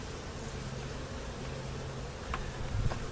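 A faint, steady buzzing of honey bees around a hive from a small swarm hums in the background, quiet and continuous with no voices.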